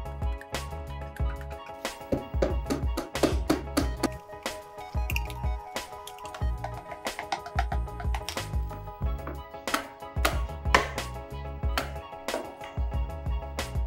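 Flour is stirred into pukis cake batter by hand, giving irregular soft squishing and ticking scrapes of a utensil in the bowl, close and continuous with brief pauses.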